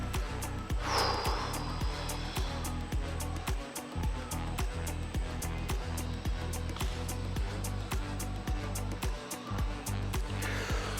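A household vacuum cleaner runs steadily and loudly throughout, with a continuous motor whine and regular rhythmic pulses, and a brief breathy exhale near the start.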